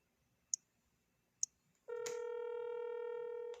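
A telephone call goes unanswered: two sharp clicks, then a steady electronic tone starts and holds for almost two seconds, clear and alone against a quiet background.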